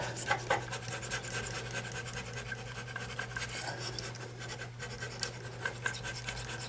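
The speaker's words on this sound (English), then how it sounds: "you just can gently scrape a little bit to get the big stuff off" A razor blade in a handle scrapes putty and soap scum off a bathroom countertop around a sink, giving a soft, continuous rasping scratch with small repeated strokes, close and fairly quiet.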